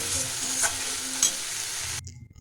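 Spices being stirred and sautéed in a pan for an egg dal, giving a steady frying sizzle with scraping spatula strokes, then cutting off abruptly near the end.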